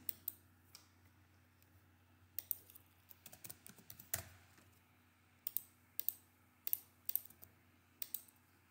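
Mouse clicks while drafting a women's jeans pattern in Garment CAD V10 software: sharp, close clicks in scattered bursts, some in quick pairs and triplets, over a faint steady hum with no speech.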